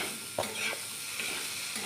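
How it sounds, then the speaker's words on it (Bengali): Bell peppers sautéing in a pan for bread pizza, with a low steady sizzle and a few soft stirring scrapes, quiet and close with no talking. "তাই এটা হালকা একটু সটে হয়ে গেছে"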